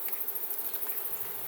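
Honeybees cluster on the edge of a hive frame, their buzzing a close, continuous hum with slight fluctuations over a brief moment.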